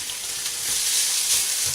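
Bacon and egg fried rice with soy sauce frying in a pan for a Chinese-style breakfast, a steady close sizzle and crackle with slight stirring swells.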